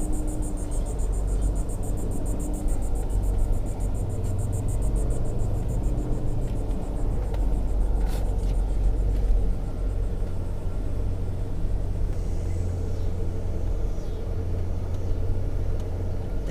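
A vehicle driving slowly along packed beach sand, a steady low engine rumble and road noise from inside the cab, continuous and even with no talk.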